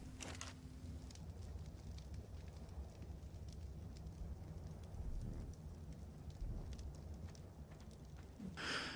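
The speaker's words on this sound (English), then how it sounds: "I ran back to the campfire to put the meat on the fire" A campfire crackles and hisses steadily in ARK: Survival Evolved, a dense close bed of fire noise running the whole time with a few sharper pops and a brighter burst near the end.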